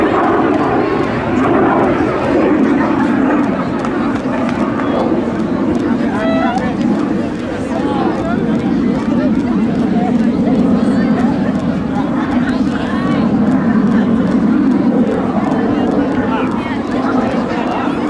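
A BAC Jet Provost jet trainer displaying at the Midlands Air Festival gives a continuous loud jet roar, with a commentator talking over a crowd throughout.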